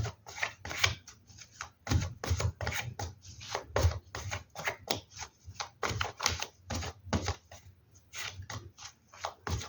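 Tarot cards are shuffled repeatedly at close range, making quick bursts of crisp riffling and slapping in an irregular rhythm, with no talking.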